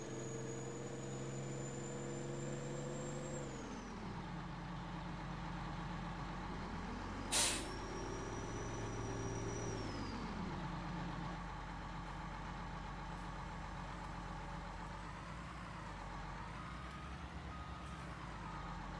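An old Peterbilt truck in the video game Farming Simulator 22 idles and revs with rising and falling engine tones, a sharp air brake hiss midway, and a faint high whine, steady and fairly quiet with no talking.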